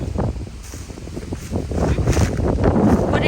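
Strong wind blows hard across an open field, a loud, steady roaring rush with gusts and microphone buffeting that swell toward the end.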